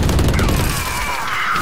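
Gunfire from the video game Valorant, in a new deathmatch mode: a dense burst of rapid shots rolling together, loud and close at first, then tapering into fainter trailing reports.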